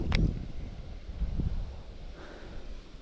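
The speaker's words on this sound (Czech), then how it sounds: "prostě fouká a bude foukat i večer" Gusty wind on a reservoir shore during fishing, a low rumbling buffet that swells and fades with a couple of sharper gust thumps against the microphone, fairly faint and continuous.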